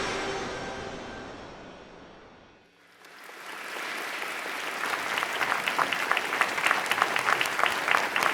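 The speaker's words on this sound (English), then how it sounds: "let's give a warm round of applause" A tonal sound fades out, then a large audience at a vegan Global Unity event breaks into warm applause that swells and holds as a dense, loud, sustained clatter of clapping.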